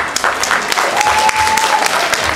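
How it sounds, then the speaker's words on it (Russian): Loud applause from a school audience at an awards ceremony, a dense steady clatter of many hands lasting throughout, with a faint voice and a brief tone behind it. "И бурные аплодисменты."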